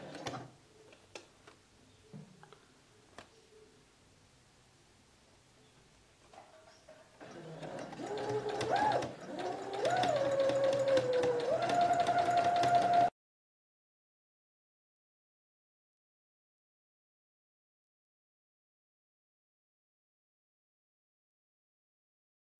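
After a few faint handling clicks, a sewing machine hums in a steady close run for about six seconds, stitching bias tape and broderie anglaise onto a dish towel, then silence follows.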